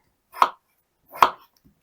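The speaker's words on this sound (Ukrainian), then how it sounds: "Картоплю поріжу теж кубиками." Two sharp knife chops strike a cutting board while dicing potatoes, evenly spaced and close, with quiet in between.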